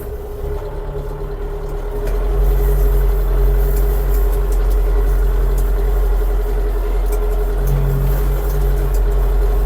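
A heavy tractor engine rumbles steadily while ploughing, growing louder after a couple of seconds and then holding a constant, close drone with rattling undertones.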